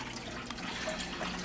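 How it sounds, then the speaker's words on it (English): Water flows steadily back into an aquaponics fish tank, a soft continuous trickle and splash with faint drips at low level. "And obviously, there's the water coming back through."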